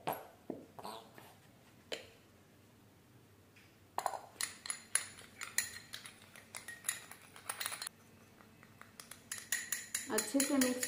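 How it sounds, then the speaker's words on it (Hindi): A spoon clinks and scrapes in a small bowl while glycerin, vitamin E capsules and aloe vera are stirred together, scattered light taps at first, then a busier run of rapid clinks, close and fairly quiet. "अच्छे से मिक्स करेंगे गाइस।"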